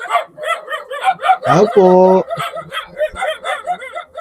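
A dog barks and yelps once, loud and close, in the middle of people talking outside a padlocked house gate.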